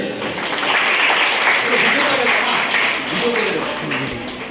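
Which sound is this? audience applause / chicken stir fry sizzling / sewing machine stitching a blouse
audience applause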